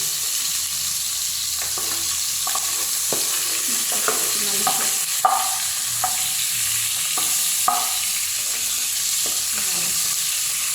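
Chicken frying in a pot for arroz caldo, a constant loud sizzle with intermittent stirring scrapes and clinks as an ingredient is added.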